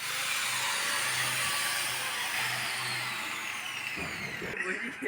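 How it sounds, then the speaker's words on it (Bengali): A power saw grinds through a metal pipe on an Excel Hundred scooter during a workshop repair, a loud continuous whining rasp that holds steady before shifting near the end, with a voice talking over it. "এই যে পাইপটা দেখতে পাচ্ছ কেটে ফেলছি"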